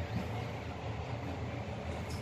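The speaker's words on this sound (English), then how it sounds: "So now I'm getting a train to," A metro train in Deira, Dubai hums and rumbles steadily from inside or close by, a continuous low rolling drone with faint rhythmic clatter.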